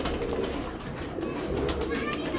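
A loft of Indian Lakhy pigeons, around forty birds, coo softly and continuously amid a dense, busy background murmur, the low calls overlapping without a clear rhythm.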